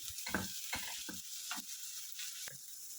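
Tomatoes cooking in a pan for whole masoor dal, with a soft sizzle under several distinct knocks and scrapes of a spoon stirring against the pan, quiet and close.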